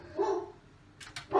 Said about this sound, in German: Und das ist unser Hund, der bellt jetzt